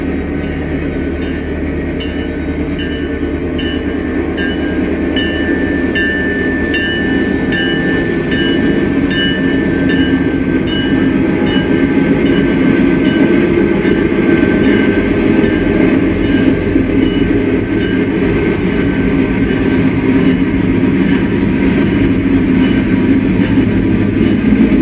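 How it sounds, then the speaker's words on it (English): A Norfolk Southern train rolls out of town in a long, loud, steady rumble, with wheels clicking rhythmically over rail joints and faint squeals throughout. "Norfolk Southern puts on a show with a train leaving town."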